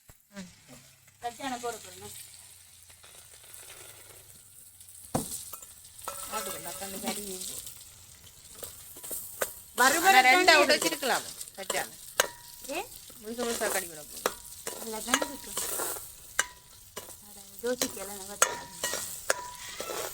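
Food sizzles steadily in hot oil, with crackling bursts and a louder surge midway, while a person talks intermittently over the frying.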